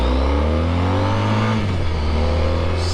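Honda ST1300 motorcycle accelerating on a twisty road, its engine note climbing steadily in pitch, dropping briefly at a gear change, then rising again, loud and close throughout.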